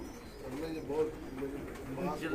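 Several show pigeons coo nearby, low rolling calls swelling and fading in short phrases over a constant murmur, with voices faintly in the background.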